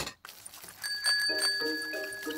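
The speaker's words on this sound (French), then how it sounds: "Et ici, la sonnette." A cartoon bicycle bell gives a few quick, bright, close rings whose clear metallic tone lingers briefly, with no talking.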